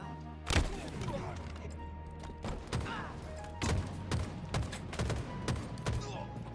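Gunfire from the Halo video game: a string of sharp shots at irregular intervals, moderately loud against steady game background noise, with no talking over it.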